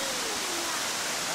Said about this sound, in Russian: Самый высокий водопад не только Крыма, но и Европы.